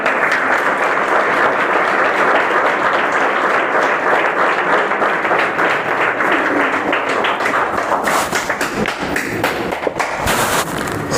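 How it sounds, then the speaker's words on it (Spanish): Loud, sustained applause from a church congregation fills the space continuously, with a few sharper claps and thumps standing out near the end. "Denle un aplauso bien fuerte al Señor."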